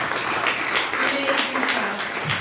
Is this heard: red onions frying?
no